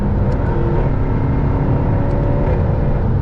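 Steady, loud engine drone from a 2017 Jaguar F-Type R AWD with a 550 hp engine and 7-speed gearbox, heard from inside the closed cabin while driving fast. The low rumble holds constant with no talking.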